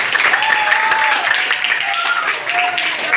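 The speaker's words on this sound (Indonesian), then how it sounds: "beri tepuk tangan buat kalian semua" A seventh-grade classroom claps together after student presentations, a brisk, steady patter of many hands filling the room while a voice talks over it.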